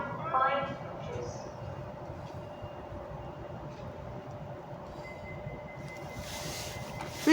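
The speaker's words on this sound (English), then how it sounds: "Snowcon train Working up to Stockport, Edinburgh Waverley." A train at Birmingham International station rumbles steadily along the platform, a continuous low mechanical drone with faint squeals and a rising hiss toward the end, with a station announcement voice heard over it.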